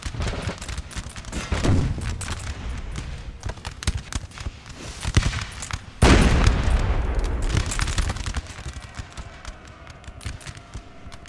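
Musket volleys from Napoleon Total War, played on the Bavaria campaign, crackle in ragged bursts of overlapping shots, with a heavier boom near the middle. The firing comes from mid-distance and no voice is heard.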